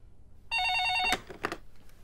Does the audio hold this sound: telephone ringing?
yes